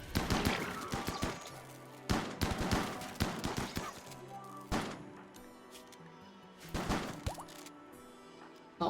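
Gunfire from weapons shooting at a turret in the RimWorld video game, heard as dense rapid bursts of shots with pauses between volleys, punchy and close, with no talking over it.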